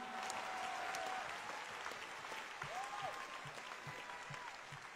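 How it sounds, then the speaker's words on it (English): A large congregation at a London deliverance service claps for Jesus, a wash of crowd clapping heard at a distance, faint and continuous with a few scattered louder claps. "Clapez vos mains pour Jésus"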